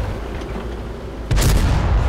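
A tank gun fires in the World of Tanks game, one sudden loud boom partway through that cuts in sharply and rumbles on through to the end.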